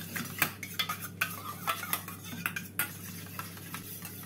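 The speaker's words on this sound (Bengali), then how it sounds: "দইটাকে প্রথমে ফেটিয়ে নিচ্ছি।" Sour yogurt being whisked in a bowl, a spoon or whisk clinking and scraping against the sides in quick irregular strokes, close and fairly quiet, with no talk.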